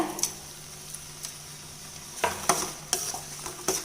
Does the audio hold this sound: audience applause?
no